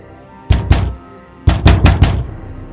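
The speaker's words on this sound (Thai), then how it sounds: "ได้ยินเสียงคนทุบประตูอยู่หน้าห้อง" Someone pounds on a door outside a room: loud, close, heavy thuds in two bursts, a pair of blows and then three more in quick succession, with no voices.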